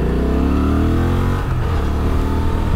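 A Honda XL750 Transalp middleweight adventure motorcycle pulls hard in sport mode, its engine loud and close, revving up through rising tones, dipping at a gear change, then climbing again, with no talking.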